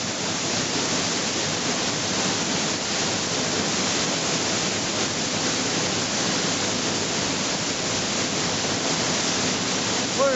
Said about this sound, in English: A person might be able to walk completely behind this waterfall.